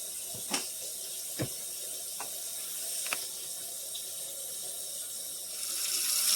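Tap water runs into a kitchen sink in a steady, moderately quiet hiss, broken by a few sharp clinks and knocks of dishes or a pot.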